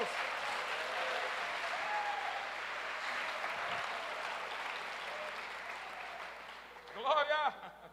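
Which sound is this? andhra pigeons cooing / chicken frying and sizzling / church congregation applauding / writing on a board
church congregation applauding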